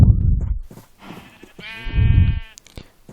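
Sheep in the Minecraft video game bleat twice, loud and close, with quieter clicks and game noise between the calls.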